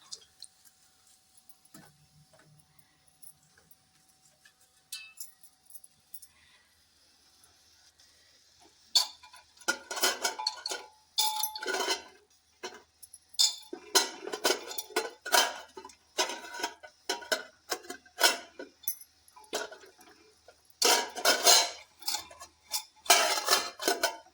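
A pressure cooker lid and pots are placed in a kitchen, giving sparse metallic clinks and knocks that become more frequent and louder partway through, then a series of clattering bursts with short pauses between them.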